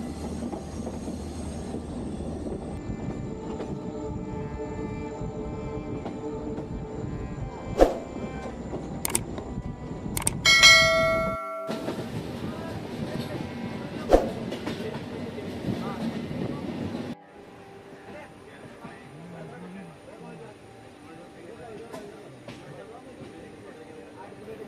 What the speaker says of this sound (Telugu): కూలెం నుంచి మళ్ళీ ట్రైన్ ఆల్రెడీ ఎక్కేసాము, గోవా ఎక్స్ప్రెస్